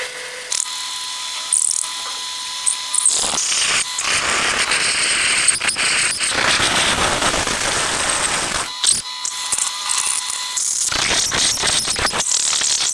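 A metal lathe facing off gearbox parts for a planetary drive, giving steady broadband cutting noise with short pauses and a few clicks as the cut stops and restarts, loud and close with no talking.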